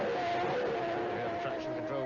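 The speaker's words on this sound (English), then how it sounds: "Traction control working with the misfire as Damon goes away" Formula 1 race car in the 1993 Brazilian Grand Prix with a deliberate engine misfire under traction control, its steady high-pitched engine tone droning continuously as it pulls away, with commentary talk running over it.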